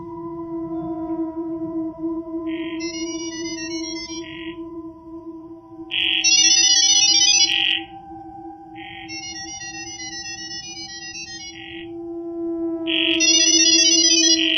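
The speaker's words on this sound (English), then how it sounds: "using audio signals that are much easier and quicker for AI bots to interpret than regular human spoken language" Rapid chirping, modem-like data tones from AI voice agents in Gibberlink mode, played in alternating bursts of warbling beeps over a steady low hum and background tones, with louder bursts every few seconds.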